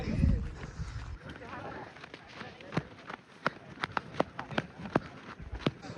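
Hooves pound rapidly over ground amid outdoor crowd noise, with sharp irregular thuds growing more frequent as bullocks pulling carts run past in a village bullock cart race.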